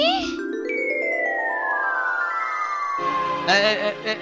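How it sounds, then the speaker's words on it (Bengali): A cartoon ambulance siren gives a loud, clear wail that glides steadily downward in pitch for about three seconds. A short burst of busier, mixed noise follows at the end. "অ্যাম্বুলেন্স!"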